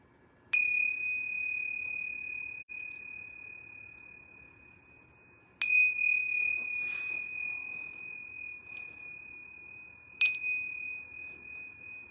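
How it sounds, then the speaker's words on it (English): Yoga bells struck three times at the close of a relaxation class, each a bright ringing tone that slowly decays, with a separate light chime between strikes; no talking while they sound. "I'm going to ring these yoga bells 3 times."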